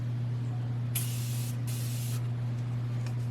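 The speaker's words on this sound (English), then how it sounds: "Go ahead and just spray this side." Makeup setting spray misted onto a face in two short close hissing bursts, one after another, over a steady low electrical hum with no talking.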